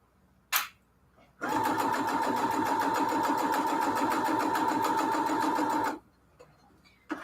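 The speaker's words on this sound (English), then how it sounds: "So the parts I was supposed to hand stitch, I kind of just did it with my sewing machine." Electric sewing machine stitching quilt fabric for cathedral window pillowcases, running in one continuous loud mechanical whir for about four and a half seconds, with a short click before it starts and quiet afterward.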